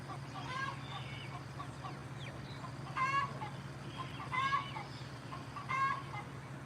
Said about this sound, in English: We got some chicken drama going on out there.